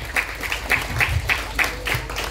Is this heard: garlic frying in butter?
no